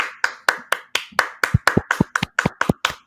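A single person claps hands in an even, brisk rhythm, about a dozen sharp, close claps in quick succession with nothing else behind them.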